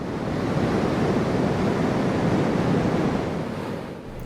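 Ocean surf on a west coast beach, 2.5-metre waves breaking far offshore, heard as a steady, loud, unbroken roar of wash with no talking.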